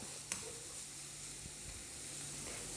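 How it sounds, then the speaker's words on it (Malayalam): Finely chopped onion sizzling in a pan, a soft, steady frying hiss close by with a sharp clink near the start and faint low thumps. "സവോള ഒന്ന് ചെറുതായി വഴന്നു വരുന്നത് വരെ നമുക്ക് വെയിറ്റ് ചെയ്യാം."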